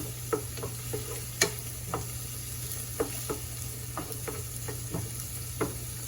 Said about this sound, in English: just a little bit of tomato sauce. Like maybe 1/4 of a can, and stir it all together